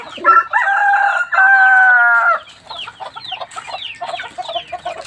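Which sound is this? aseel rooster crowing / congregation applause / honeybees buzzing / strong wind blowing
aseel rooster crowing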